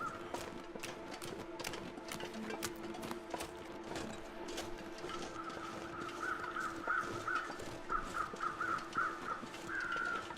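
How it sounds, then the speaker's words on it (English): Bear crows caw in The Long Dark, Interloper difficulty, a faint distant scatter of harsh calls drifting over windy wilderness ambience, growing slightly busier toward the end amid irregular crunching footsteps. "if you're ever in this area and you hear bear crows but you don't see a bear"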